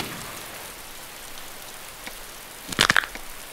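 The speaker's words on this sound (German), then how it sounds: "weil der Regen ist so laut" Rain in DayZ falls as a steady broadband hiss throughout. Near the end a few brief, louder splashes or patters rise briefly above the wash.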